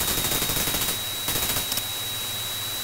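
Rapid aircraft gunfire from the flight-combat video game Chuck Yeager's Air Combat, rattling in quick bursts over a steady engine drone, with a short second burst and a pair of final shots.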